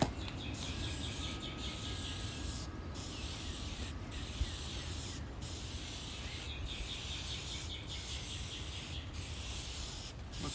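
Steady, continuous aerosol-style spray painting light coats onto the interior of a 1961 Chevrolet Impala, a broad hiss running nearly unbroken with brief regular pauses between passes, close and even in level.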